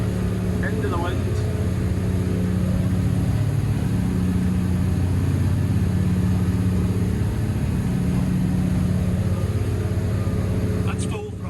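Twin Volvo Penta D6 400-horsepower diesels drive a Cranchi M44 HT motor yacht at full throttle, about 3,600 RPM and 32 knots. They make a loud, constant low drone with steady hull and wind rush, heard throughout at close range.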